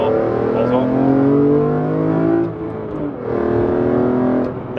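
BMW M3 CSL engine accelerating hard, a loud, near rising engine note that climbs through the revs, dips briefly as it shifts, then pulls up again with no talk over it.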